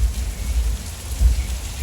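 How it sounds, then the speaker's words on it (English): Rain from overhead sprinkler rigs on a Universal Studios Hollywood studio set, a dense steady patter layered over deep rumbling thunder sound effects, loud and continuous with no voices. "Nice little bit of rain."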